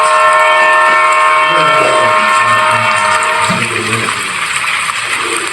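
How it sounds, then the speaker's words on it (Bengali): A train in a Bengali ghost cartoon pulls into Palashhati station, a loud, steady rumble of wagons with a sustained horn-like tone that eases off as it comes to a stop. "ইতিমধ্যেই ট্রেন এসে থামলো পলাশহাটি স্টেশনে"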